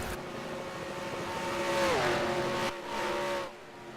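A race car with a flat tire spins out on track; a steady engine drone rises, then bends sharply in pitch as it slides, followed by a brief dip and a final surge before fading.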